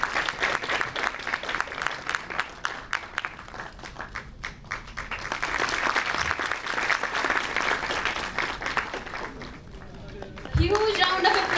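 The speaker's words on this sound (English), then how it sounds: "Please give a huge round of applause." At a university inauguration ceremony for a national integration camp, an audience claps steadily in a thick, continuous round of applause, rising near the end, while voices talk faintly underneath.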